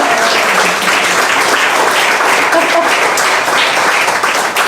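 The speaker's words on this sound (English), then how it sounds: "How about a big round of applause for Yumi Stynes?" Loud, close applause fills the room as an audience claps warmly for Yumi Stynes at a talk, dense and continuous for the whole stretch.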